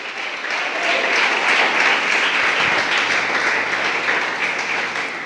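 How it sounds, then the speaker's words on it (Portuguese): A church congregation applauds together, a dense wash of clapping that swells and holds steady for several seconds, with a low hum entering partway through. "Aplauda o Senhor se você crê nisso"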